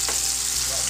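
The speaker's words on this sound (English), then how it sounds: "Fry it" Marinated chicken coated in masala and salt fries in a pan with a steady, close, loud sizzle throughout, with no talking over it.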